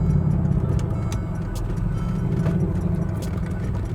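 Interior drone of a Mercedes G63 AMG with straight-piped exhaust cruising in sport mode: a steady, loud low-frequency engine rumble with faint ticking turbo spool above it, continuous throughout, with no talking.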